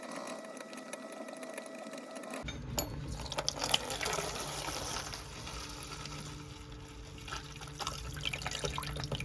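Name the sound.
diesel draining from generator water separating filter into container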